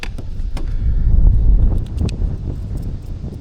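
Strong wind buffets the microphone at a lakeside spot while fishing for crucian carp, a steady low roaring rumble with faint rustling and small knocks, and no one speaking.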